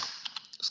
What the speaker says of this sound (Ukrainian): З клавіатури набираємо -1, нажимаємо просто G.